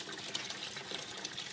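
Water splashes continuously as an aquaponics bell siphon drains, breaking the surface of the tank water in a steady, faint rushing gush with no talk.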